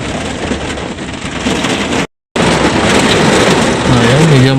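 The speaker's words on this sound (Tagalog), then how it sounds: "Ayan, medyo maulan ngayon." Steady heavy rain pours down on a farm, a dense continuous hiss close to the microphone, briefly cut off once, with a faint tonal sound near the end and no talking.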